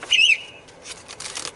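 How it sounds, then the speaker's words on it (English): A WhatsApp message notification on a phone: one brief, high chirping tone rings out near the start, followed by faint rustling in a quiet room. "that was my phone, that's just a WhatsApp message that's come through."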